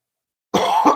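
A single harsh cough from a person recovering from a cold and sinus infection, sudden and close after silence, with a second short burst at the end.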